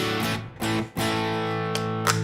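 Electric guitar on a crunch tone, overdriven with the bridge pickup rolled back, ringing sustained chords with a few sharp re-strikes and brief gaps between them, loud and alone.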